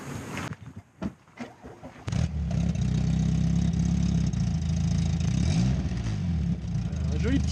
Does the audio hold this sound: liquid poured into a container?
no